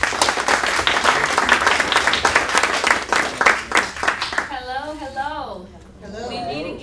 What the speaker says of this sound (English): would you all give Drashanta Brinson a round of applause?